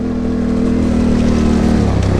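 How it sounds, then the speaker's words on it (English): Yamaha Tenere 700 adventure motorcycle ridden fast on a gravel forest trail, engine droning loud and steady with a dense rushing wash of road noise, stones spraying up against the exhaust pipes. "I feel like I'm throwing rocks at my exhaust pipes"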